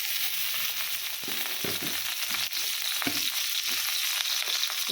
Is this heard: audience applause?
no